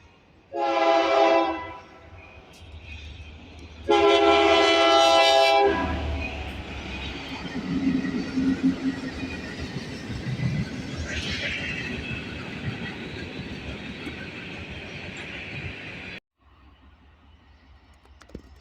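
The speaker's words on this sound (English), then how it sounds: "Next up here was a westbound NS manifest." Two long blasts of a train horn, then a westbound Norfolk Southern manifest freight train rolls past close by in Ohio with steady rumbling and clatter until it abruptly fades.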